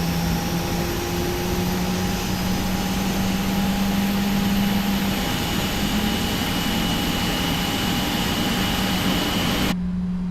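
A Boeing 777-300ER jet engine spools up during a start in a flight simulator, a loud, steady whine and rumble with sustained tones, ending in a sudden cut of the higher frequencies.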